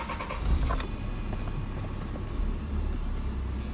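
A car creeping forward a few metres on flat ground, low steady engine and road rumble with a brief louder bump near the start, close and continuous, no talk.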